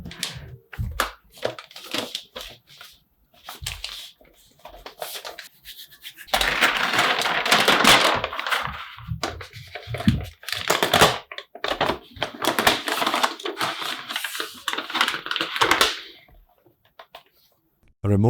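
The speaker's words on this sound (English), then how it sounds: "Removing the wrapping paper" Paper wrapping crinkles and tears as it is pulled off a new 16-inch MacBook Pro, with bursts of rustling and crackling in two longer stretches, close by and loud, no talking.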